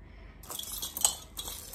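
Heavy glass beads clink against one another and against vintage plastic beads while being sorted by hand, giving a few close, bright taps clustered near the middle of the short stretch.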